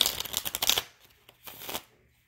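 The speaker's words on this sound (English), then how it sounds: "I'm going to shuffle one more time." Tarot cards being shuffled by hand, a quick riffling flutter followed by a second shorter burst, close and clear with no talk over it.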